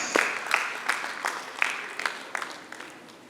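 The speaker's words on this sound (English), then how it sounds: "Keep clapping for her, please." Applause from an audience at an academic workshop, with individual sharp claps standing out over a thinner crowd clapping that gradually tapers off.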